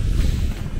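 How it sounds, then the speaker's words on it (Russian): Wind blowing outdoors beside railway track, a steady broadband rush with low rumbling gusts buffeting the microphone, continuous and fairly loud throughout. "Блин, ветер поднимается"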